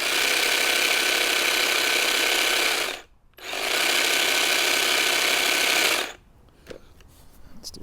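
An Ego commercial pole hedge trimmer cutting at 4,000 strokes per minute gives a loud, steady, close mechanical buzz in two runs of about three seconds each, split by a brief stop, then falls to near quiet with faint clicks.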